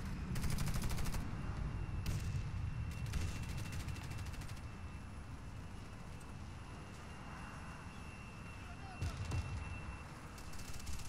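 Gunfire in the video game Warface during a team deathmatch on the Airbase map, bursts of rapid automatic shots with scattered single cracks over a low rumbling background, moderately loud.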